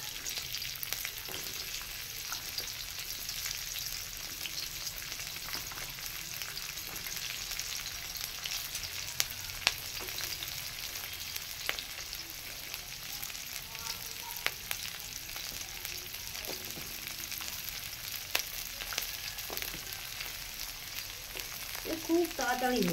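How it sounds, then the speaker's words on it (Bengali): Green beans fry in a hot pan with oil, a steady close sizzle that runs throughout with occasional light clicks of stirring. "এরপরে আমি বিনসগুলো ভেজে নেব।"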